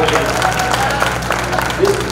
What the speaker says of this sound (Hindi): जोरदार तालियां आप लोग।